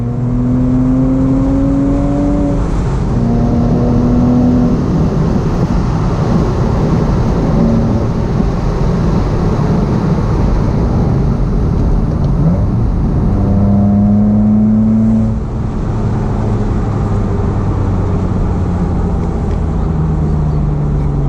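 A Porsche 987 Boxster S is driven with the roof down on Cotswolds roads at sunset. The engine note is loud and close, rising in pitch as it accelerates, dropping, then climbing again, over a steady road rumble with no talking.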